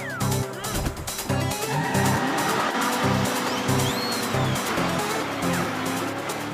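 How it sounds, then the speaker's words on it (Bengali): A cartoon truck drives fast, engine roar with squealing tire and skid effects under busy background music, moderately loud and continuous. "আরে ঝটকা বড়দা, ট্রাক জোরে চালাও।"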